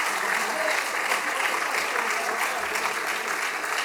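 A crowd at an apple festival applauds Hervé Morin, dense continuous clapping at steady volume with a voice faintly audible beneath it.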